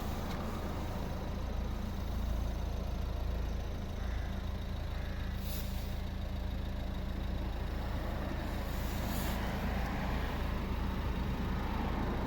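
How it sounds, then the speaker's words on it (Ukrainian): A 2012 Volvo V50 with a 1.6-litre D2 diesel engine idles with a steady, low rumble, continuous with no change in pace, close by and fairly loud, with no voices over it. "Салон з цієї сторони і послухаємо двигун."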